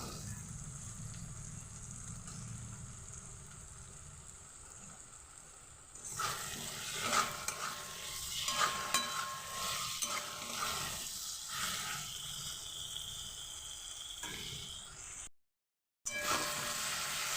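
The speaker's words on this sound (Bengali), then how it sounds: "আলুটার সঙ্গে মশলাটা ভালোভাবে কষিয়ে নিয়েছি" Potatoes being sautéed with a spice masala in a pan, with a steady sizzle under stirring and scraping that grows busier partway through and drops out briefly near the end.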